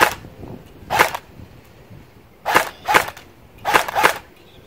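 Airsoft gun loaded with .25 BBs, hop-up not yet adjusted, firing five sharp snapping shots, a single one followed by two pairs, close and loud against a quiet background.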